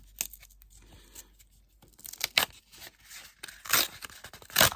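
A small paper pouch is torn open by hand, with scattered crinkling and a few sharp, close ripping bursts between quiet pauses.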